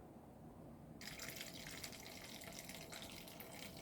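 Water gushes through a heater core taken out of a Volvo BM 500 tractor during flushing, a steady close rush that jumps in strength after a second of quieter flow.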